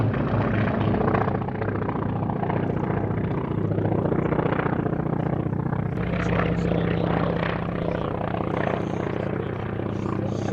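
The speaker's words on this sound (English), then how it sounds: "The Wildcat peeling off from the back of the formation to put on his solo performance" A military Wildcat helicopter flies a solo display at an airshow, a loud, sustained rotor thrum with rising and falling engine roar as it manoeuvres, heard alone at moderate distance.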